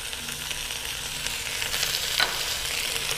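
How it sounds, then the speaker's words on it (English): Onions dropped into a hot pan on a stovetop cooking system, breaking into a loud, close, steady sizzle that swells as they settle, with no voices. "All right, now we're gonna add some onions."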